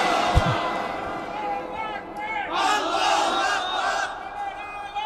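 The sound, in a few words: crowd shouting takbir (Allahu Akbar) in response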